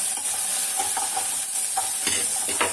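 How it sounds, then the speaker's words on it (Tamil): Okra sautéing in a pan for a kara kuzhambu, a continuous close sizzle broken by irregular stirring scrapes and clinks, no talking. "இப்போ வெண்டைக்காய் வதங்கிட்டு"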